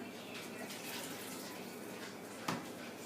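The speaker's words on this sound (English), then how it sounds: "Then you add 1 1/4 cup of water." About 1 1/4 cups of water poured into a bowl of cake batter with eggs and vegetable oil, a soft continuous splashing trickle lasting a few seconds with one brief louder plop near the end.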